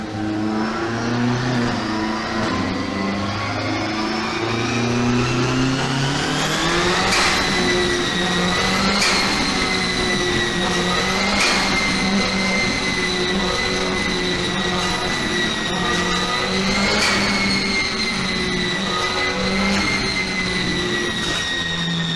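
A turbocharged engine with a bypass valve runs hard on a dyno, its exhaust headers glowing. A loud, continuous droning roar rises and falls in pitch over about twenty seconds, with no voices.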